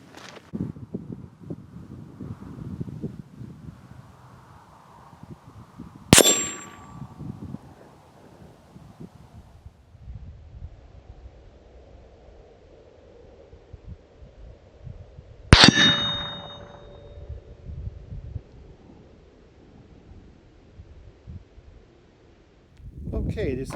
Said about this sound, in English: this is where we just now hit the steel spinner target